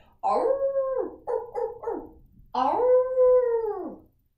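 A group of people on a farm imitate dogs with their voices during a yoga session, giving one long howl, a few shorter broken yelps, then another long, loud rising and falling howl.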